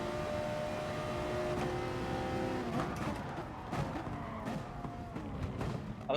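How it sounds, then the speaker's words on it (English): Race car engines in Gran Turismo Sport rev and whine with sustained harmonic tones rising and falling across the clip, with sharp bursts of acceleration and tire noise, steady and fairly loud with no talk. "I was gonna go for it then, but he revved it, I heard it."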